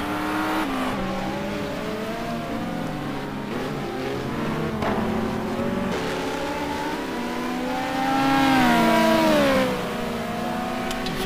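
Ferrari GT2 race cars battle at Road America in a racing game, their engines whining loudly through rising and falling gear changes as one car surges close and pulls away.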